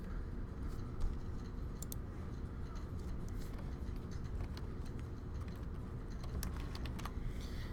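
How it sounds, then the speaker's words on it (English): Soft typing on a computer keyboard while a document is written, a steady run of light clicking keystrokes over a low background rumble, fairly quiet and without talk. "I'm going to go ahead and start typing my document"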